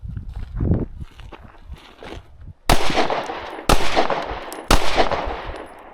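Gunshots fired at a target dummy: three sharp, loud reports spaced about a second apart, each with a short ringing tail, after a few quiet shuffling footstep-like sounds.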